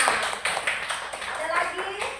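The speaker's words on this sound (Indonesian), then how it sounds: "Iya, tepuk tangan." Short burst of classroom applause, a group of students clapping briskly and fairly close, with a teacher's voice mixed in.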